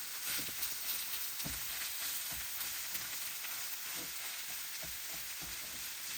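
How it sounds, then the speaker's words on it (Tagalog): Garlic and onion sizzling in oil in a pan for corned beef, a steady close frying hiss broken by irregular scraping knocks of a stirring utensil. "Mahalo natin mabuti sa mga garlic natin at onion para maging malasa"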